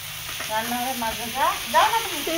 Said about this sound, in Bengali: রান্নাঘরে মাছ ভাজা হতেছে।